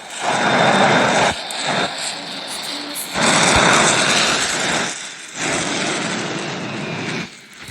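Aircraft engine drone in an aircraft carrier video game, a steady loud roar that dips briefly several times and then returns, with no voices over it.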